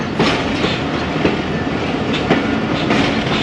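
The Ravi Express, a passenger train on a classic branch line near Shorkot, rolls past on the rails with steady rumbling and rhythmic clickety-clack from the wheels, loud and close throughout, with no voices.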